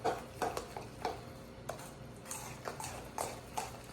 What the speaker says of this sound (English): now we're gonna mix it up